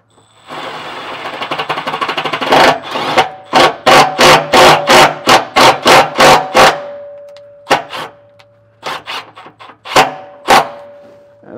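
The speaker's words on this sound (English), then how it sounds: "take the self-tapper and go ahead and thread the holes on each one before I actually mount the box" A self-tapping screw is driven into holes on a trailer sway control mounting box. A close power driver whirs in a long burst, then comes a rapid series of short bursts, then a few more spaced bursts, with no talk.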